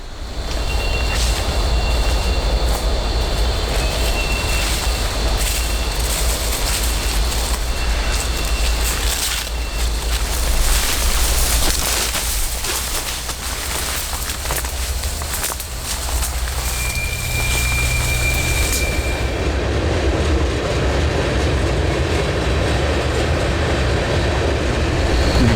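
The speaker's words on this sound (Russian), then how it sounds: "проезжают просто проходные поезда" Freight trains roll past close by at a busy railway station, with a continuous rumble of wagons, rhythmic wheel clatter and occasional high squeals from the wheels. Birds are faintly audible.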